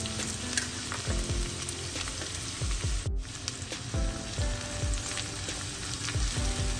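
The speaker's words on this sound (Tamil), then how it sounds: "சின்ன வெங்காயமும் கொஞ்சம் வெட்டி சேர்க்கிறேன்." Shallots and onions sizzling steadily in a pan for a prawn curry, a close, continuous frying hiss with repeated stirring scrapes throughout and no speech.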